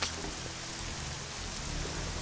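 Rain in the video game Battle Realms, a steady dense hiss of falling rain at moderate level throughout, without speech.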